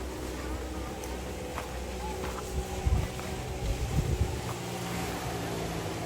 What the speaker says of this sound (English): And there's the easy way right there, the boat going by.